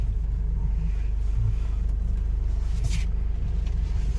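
A car engine idling low while the driver reverse parks with the steering turned full left, a steady, close interior rumble with a dull, constant drone and no clear revving.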